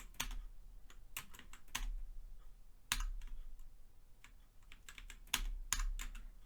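Someone types on a computer keyboard in quick irregular bursts of clicks with short pauses, close and fairly quiet, with no talk.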